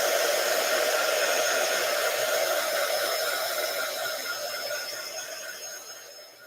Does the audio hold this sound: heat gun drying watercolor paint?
yes